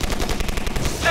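Dense, rapid automatic gunfire from a Call of Duty Warzone match, loud and continuous with a rhythmic burst pattern throughout, with game effects layered over it.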